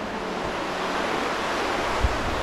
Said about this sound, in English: Oh, it seems like there's a river down there.